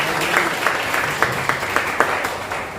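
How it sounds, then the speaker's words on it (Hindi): A church congregation gives a short round of applause to welcome a visiting newcomer, with steady, moderately loud clapping and a few sharper claps standing out over about three seconds. "उनको एक बार तालियां।"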